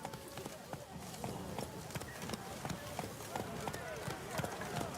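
Horse galloping in The Witcher 3, a fast rhythmic run of hoofbeats over game background sound, with a voice talking over it.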